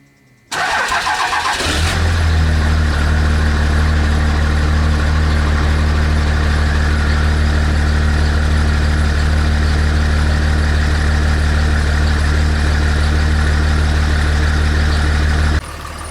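First-generation Cummins diesel truck engine cranks and fires up, then settles into a steady, loud, throbbing idle as it warms up, cutting off abruptly at the end.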